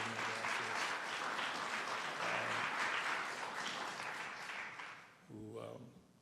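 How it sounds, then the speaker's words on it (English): An audience at a governor's community event breaks into steady applause that fills the room and fades toward the end, while a voice speaks over the clapping. "Would y'all help me give some love and applause to young Kenneth Clayton"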